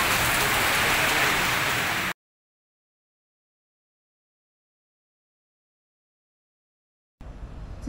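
A tropical rain shower pours down steadily in a mountain town, a loud dense hiss that breaks off abruptly and returns after a silent gap.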